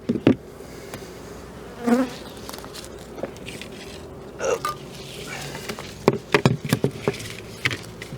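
Honeybees buzz around an opened hive during a package colony installation, a close, steady insect drone with scattered knocks and handling thumps, and a voice briefly heard.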